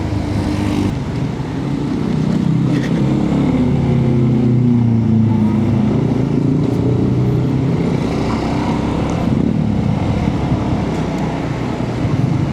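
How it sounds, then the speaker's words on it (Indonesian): A Nissan Grand Livina labors uphill on a road outside Bogor, its engine droning loud and close with a low, strained rumble that swells and holds among other traffic and motorbike noise. "Karena kita ngelihat ada mobil Grand Livina."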